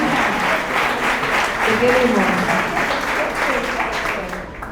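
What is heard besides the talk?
audience applause for Rosita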